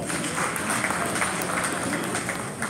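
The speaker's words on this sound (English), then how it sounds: "Let us clap for her." A crowd applauds continuously, a dense patter of many hands clapping at steady volume throughout.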